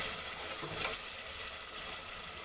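Ginger garlic paste and tomatoes saute in a pan for a country chicken curry, making a constant close hiss of frying with one faint stir and no talking.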